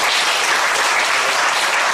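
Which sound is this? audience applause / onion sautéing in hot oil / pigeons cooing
audience applause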